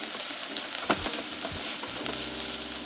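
Garlic and onions sizzle steadily in a pan, a close, bright hiss with a few soft stirring knocks.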